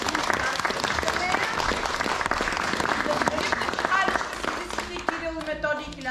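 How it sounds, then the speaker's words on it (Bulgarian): Audience at a children's theatre school performance applauds for the set designer in steady, dense clapping that tapers off near the end as voices begin to come through. "Аплодисменти за нея."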